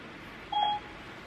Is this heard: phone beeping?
yes